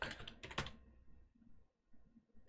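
Quick keystrokes on a computer keyboard enter a command in a quiet room, a close cluster of clicks followed by a pause and one final sharp key press.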